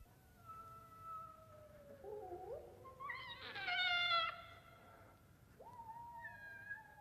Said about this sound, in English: Listen to the cats in the courtyard.